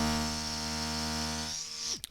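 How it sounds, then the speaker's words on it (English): A small portable cordless airbrush compressor runs with a steady, close electric hum and buzzing whine, then spins down and stops with a few clicks at the end. "So here's the sound that this compressor makes."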